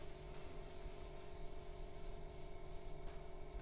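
An airbrush laying on AutoAir Colors 4200 series paint straight from the bottle, a steady close hiss of atomized spray held unbroken for the whole few seconds.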